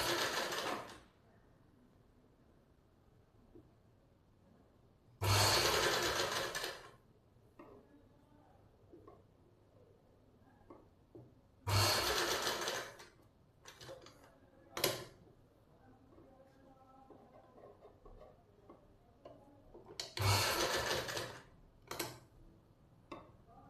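A sewing machine stitches a dhoti salwar in three or four short, loud whirring bursts, separated by quiet stretches with faint clicks and handling noise close by.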